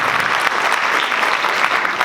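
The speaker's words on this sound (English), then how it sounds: "how about another round of applause for Armstrong Jazz Ensemble 2." A loud, full round of audience applause for a middle school jazz ensemble at a school concert, with dense clapping sustained evenly from start to finish.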